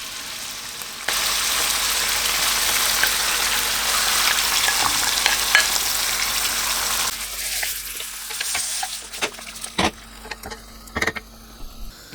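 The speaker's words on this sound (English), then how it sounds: "I want to add the oil, put the beef into the oil," Chunks of Angus beef frying in hot oil for a shepherd's pie, a loud continuous sizzle that settles after several seconds into quieter crackles and a few stirring clatters.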